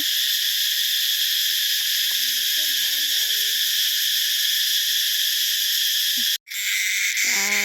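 Cicadas calling in a continuous loud, high droning buzz that fills the whole stretch, briefly cutting out before resuming, with faint low hoots or voices underneath.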